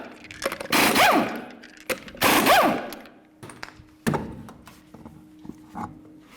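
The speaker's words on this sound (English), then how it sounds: "continue on to removing all 6 of your 21mm lug nuts and then the wheel" A powered wrench spins off 21mm lug nuts from the wheel of a 2004-2015 Nissan Titan pickup in two loud, close, rattling bursts, separated by quieter clicks and metallic clatter.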